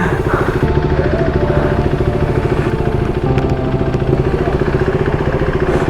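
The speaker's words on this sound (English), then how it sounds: "So let's start a bike." A superbike's engine idles just after starting, a loud, close, even pulsing rumble that holds steady throughout, with no talking.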